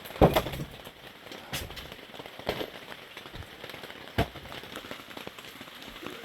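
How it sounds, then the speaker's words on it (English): Rain patters steadily on a roof during a chimney rebuild in Vermont, with a soft constant hiss broken by occasional louder drips and knocks. "it's gonna rain hard all day today"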